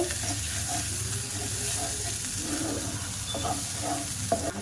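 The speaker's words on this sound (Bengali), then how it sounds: "মশলাটা কষানো হয়ে গেছে" Spice masala with turmeric and Kashmiri red chili powder sautés in a pan for a milk chicken curry, giving a steady, moderate sizzle with soft stirring scrapes and a small clack near the end.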